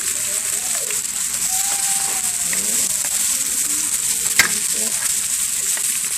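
Noodles frying in hot oil for a chow mein stir fry with beef and tofu, a steady close sizzle with stirring scrapes and a brief knock near the end, with no talk.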